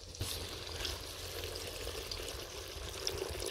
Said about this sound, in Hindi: और कोफ्ते के लिए जितनी हमने ग्रेवी बनानी है उतना हम इसमें पानी डाल लेंगे